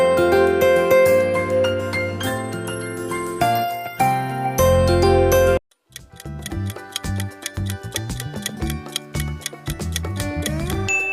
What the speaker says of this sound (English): This is LG.